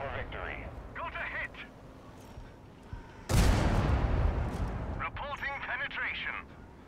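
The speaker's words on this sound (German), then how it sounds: "Oh, jetzt schießt er sogar zurück." A burst of loud video game gunfire erupts midway, rumbling for a couple of seconds, with someone talking in German before and after it.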